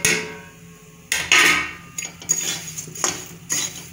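Spiced puffed rice (murmura) stirred in a pan with a utensil, giving sharp scraping clinks and taps that come in irregular bursts over a quiet background.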